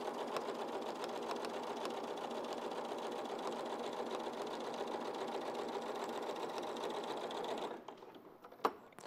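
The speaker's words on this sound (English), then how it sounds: "You can chain piece this method, it's quite straightforward" A sewing machine runs steadily while quilt squares are chain pieced, giving a continuous, close mechanical whir for about eight seconds before it stops and a single small click follows.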